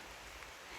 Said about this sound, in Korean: 빗소리 운치 있게 들리죠?